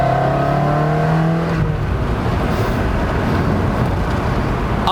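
A 2003 Ferrari 360 Spider engine revs loudly up through the gears, its pitch climbing before shifting into a steady, roaring drive with road noise close by.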